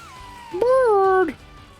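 A bird cries out in a video game as a single sustained, wavering call lasting under a second, loud and close over a quiet background.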